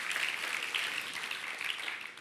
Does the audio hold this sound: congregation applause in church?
yes